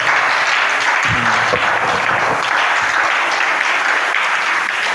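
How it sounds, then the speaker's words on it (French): Church congregation applauding steadily and loudly throughout, a dense wash of clapping with no gaps and a few scattered voices mixed in. "acclamez"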